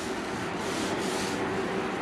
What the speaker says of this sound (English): Got the DeWalt fan blowing.